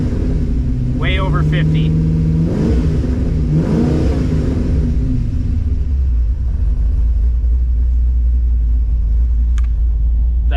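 A restarted Firebird engine with an oil pressure issue idles with a low rumble, then revs up twice in quick blips before settling back to idle, while someone talks over it.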